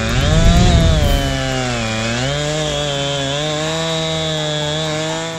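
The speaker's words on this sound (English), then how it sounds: "with the help of Bobby's son Levi, are cutting down these trees to proper size so the homeowner has logs for the winter" Loud chainsaw running steadily while cutting felled trees into firewood-length logs during land clearing, its engine whine holding a sustained pitch with a brief harder bite near the start.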